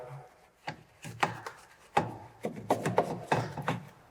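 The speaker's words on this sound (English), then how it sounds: "we can easily remove it from the surface with the agitation of our brush" A brush scrubs loosened dirt from a car surface during a car wash, with irregular close rubbing strokes and scuffs at moderate level, no talking.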